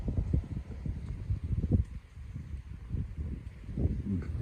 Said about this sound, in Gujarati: આ કઈ ઓછો પવન છે હે?